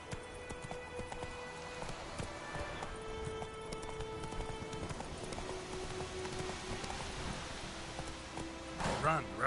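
Roach, the horse in the video game The Witcher, gallops with a steady clip-clop of hooves under someone talking, with rain-like patter and music in the background.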